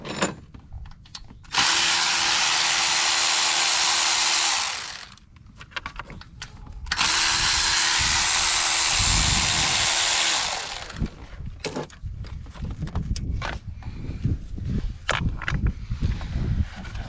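A power tool drives out screws on the N63 engine of a 2014–2018 BMW X5 50i during breather hose work, in two loud, steady whirring bursts of about three seconds each, up close, with quieter clicks and handling noise between and after them.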